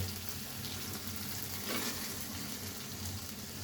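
Prawns fry in a cooked-down spice paste, giving a continuous soft sizzle with a faint stirring swell, fairly quiet and steady, no voices.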